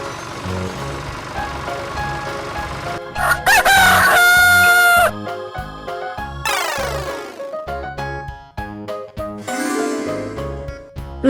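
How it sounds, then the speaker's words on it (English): A rooster crows over a busy, bouncy music track, the drawn-out cock-a-doodle-doo standing out loudly amid synthetic sounds and effects. "Rooster."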